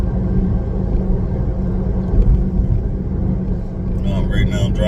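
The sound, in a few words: car driving on a road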